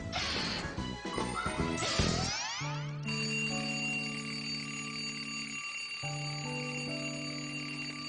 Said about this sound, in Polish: Tom Tomku, dlaczego twój budzik dzwoni w samym środku nocy?